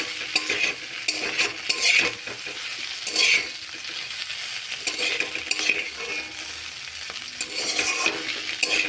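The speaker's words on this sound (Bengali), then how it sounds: "আমি ভাজা মশলাটা দিয়ে একটু নাড়াচাড়া করে নামিয়ে নেব" A spatula stirs a ground roasted spice mix of coriander, cumin, fennel and cardamom into a sizzling okra and egg curry, giving repeated close scraping strokes over a steady frying hiss.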